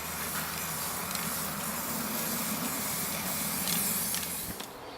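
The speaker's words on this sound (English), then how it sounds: "and then simply spray the pot in whatever colour you wish." A steady hiss of PlastiKote aerosol spray paint coating a garden pot runs continuously for a few seconds, fairly quiet and even, cutting off abruptly near the end.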